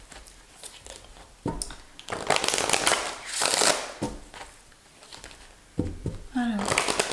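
Tarot cards shuffled for a love reading, giving bursts of crisp riffling and flicking at varying loudness over several seconds, with quieter pauses between the bursts.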